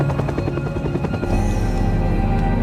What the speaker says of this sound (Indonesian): Dengan helikopter penyelamat yang menyadari keberadaan Joe